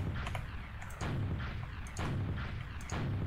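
Rocket shots fired in a Jump Academy map of a video game, with repeated punchy blasts about once a second over continuous game noise.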